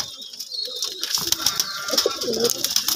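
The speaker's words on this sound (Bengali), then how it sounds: "এত কাছে কাছে থাকে কবুতর, একটু ভয় পায় না" Domestic pigeons, including Shahanpuri birds, cooing in a loft, with repeated soft throaty coos and a brief flutter of wings heard close by, with no talking.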